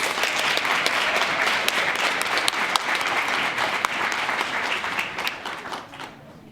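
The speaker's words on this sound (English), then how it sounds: "let's give Ethan another round of applause" An awards ceremony audience bursts into steady applause, close, dense clapping with a few sharp individual claps standing out, fading out over the last second.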